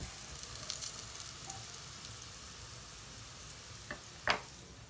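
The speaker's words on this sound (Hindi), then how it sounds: "अभी इसको फ्राई करेगा सॉसेज को अच्छे से।" Sausages fry in a pan at home with a soft continuous crackling sizzle, broken near the end by a few light clicks of stirring.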